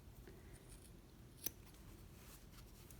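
Scissors make one sharp close snip while trimming the sewn fabric corners of a scrap coaster, with a quiet room hush around it and no talking.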